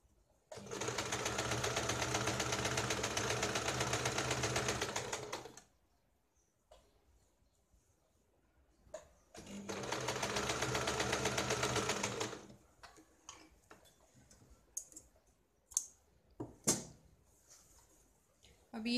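A sewing machine runs in two steady bursts of several seconds each, stitching the lining of a sari blouse piece, separated by handling clicks, fabric rustle and brief pauses.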